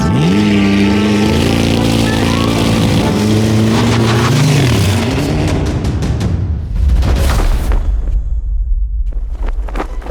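A brand new Bentley Continental GT Speed driving off: a loud, close engine rev rising and falling through the gears, then easing and fading as the car pulls away.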